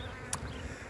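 A swarm of honey bees gives a steady, dense buzz throughout, with one brief sharper rustle partway through, heard outdoors with no talking.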